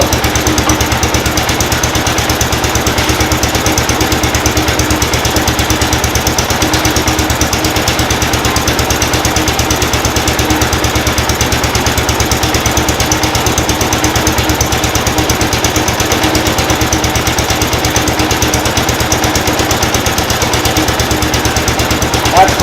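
A 1970 Cub Cadet Model 147 garden tractor engine runs at low idle, giving a steady, close, loud rumbling drone that never changes.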